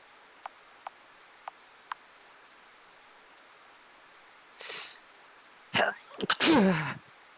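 A person sneezes, a short burst followed by a louder, stronger sneeze with a drawn-out tail, after a few faint, sparse clicks in a quiet room.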